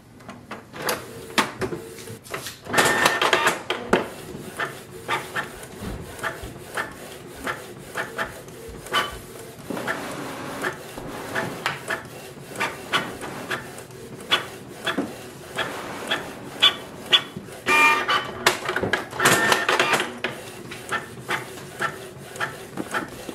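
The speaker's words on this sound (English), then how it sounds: "and wait for the printer." A Canon Pixma G3260 inkjet printer works through a document with irregular mechanical clicks, rubbing feed noises and short bursts of whirring, moderately near and quiet, without talk.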